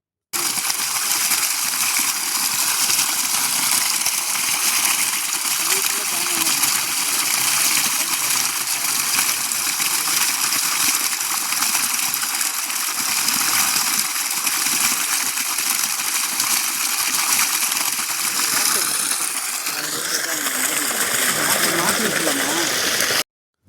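Water gushing steadily from a 5 HP Texmo solar borewell pump on a 400-foot borewell with a 2-inch delivery outlet, a loud continuous rushing outflow held close for the whole stretch, with a brief shift in the flow near the end.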